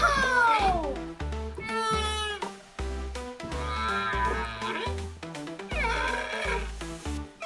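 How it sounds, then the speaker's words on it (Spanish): Whale calls in a children's animal-sounds lesson: several long, sweeping moans and wavering cries, close and clear, separated by short gaps over a low, pulsing musical backing. "Esta es una ballena."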